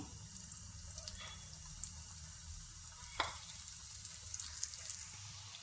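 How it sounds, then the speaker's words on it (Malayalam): Coated pieces of ripe jackfruit fry in hot oil in a Kerala kitchen with a soft, continuous sizzle, faint crackles throughout and one sharper splatter partway through. "എണ്ണ നന്നായിട്ട് ചൂടാകുമ്പോൾ അതിലേക്ക് നമുക്ക് ഇത് ചക്ക ഇട്ട് കൊടുക്കാം"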